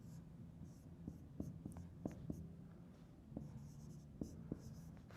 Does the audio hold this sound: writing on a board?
yes